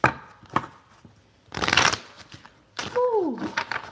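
Tarot cards being shuffled: short papery riffles and slaps come in bursts with pauses between them, plus a brief tonal squeak near the end. The sound is close and fairly quiet.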